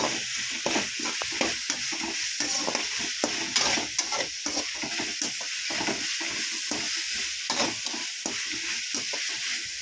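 Tomato and onion being sautéed for crab gravy, a steady bright sizzle with rapid, rhythmic stirring scrapes of a spatula in the pan, close and continuous.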